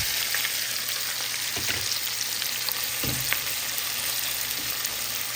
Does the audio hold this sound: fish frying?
yes